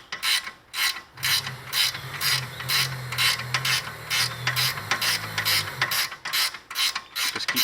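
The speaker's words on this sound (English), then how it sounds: "Just keep tightening until you get nice and snug, just like that." Ratchet wrench clicking in a steady run of sharp, close strokes while tightening the 19 mm nut on the outer tie rod of a BMW, with a low hum running beneath the middle of the sequence.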